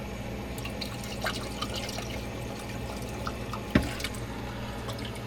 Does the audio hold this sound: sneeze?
no